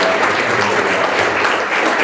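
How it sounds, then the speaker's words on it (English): A dense, even burst of audience applause for the organizers at a 1 Million Cups gathering, sustained clapping filling the room at close range with little else audible. "And so I just want to give them just a round of applause"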